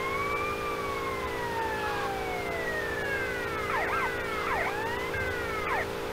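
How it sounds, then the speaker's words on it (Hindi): Ambulance siren from the GTA Vice City video game wails in repeated rising and falling sweeps, steady and moderately loud over a constant engine hum. "सायरन बंद कर लिया भाई मैंने।"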